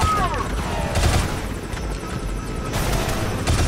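In the Shadow Complex Remastered game, a helicopter's steady rotor chop runs continuously for a few seconds, with sharp bursts of gunfire and booms mixed over it.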